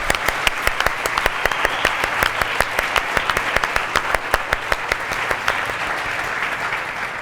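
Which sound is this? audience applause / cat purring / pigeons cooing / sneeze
audience applause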